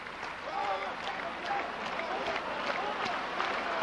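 An audience at a Japanese pro wrestling six-man tag match claps in a steady rhythm during a slap exchange, the beats regular under an excited commentator's running talk.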